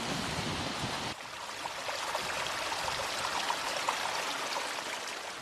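An artificial stream on a farm flows steadily, a continuous close rushing and trickling of water with no voices.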